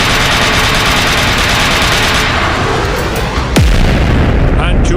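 Artillery fire and explosions pound a city under Allied bombing in a dense, loud, continuous roar of blasts, with a falling whistle before a heavy boom near the end and a voice shouting over it.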